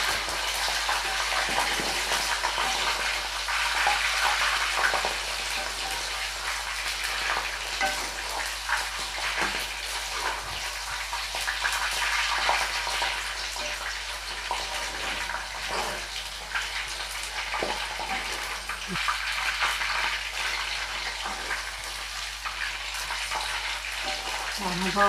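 Eggplant fritters (vankaya bajji) frying in hot oil give a continuous, close sizzle with crackling pops scattered throughout, steady in level from start to finish, with no voice over it.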